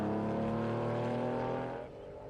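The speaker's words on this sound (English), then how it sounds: "Ken Kissinger is next in the Porsche 911. 1981 model with a 3 litre flat 6." A 1981 Porsche 911 with a 3-litre air-cooled flat-six races past at a historic sprint meet, a loud, rich engine roar that holds steady and then fades as the car moves away.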